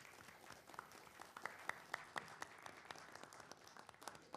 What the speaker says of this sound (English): so let's give everyone a huge round of applause